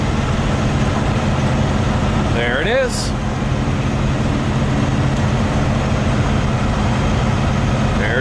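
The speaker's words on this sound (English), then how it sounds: "There's our new engine. Same as the old engine, it's just new." A rebuilt Cummins X15 diesel truck engine idles at a truck stop, a loud steady low rumble with a constant hum, and someone speaks briefly over it.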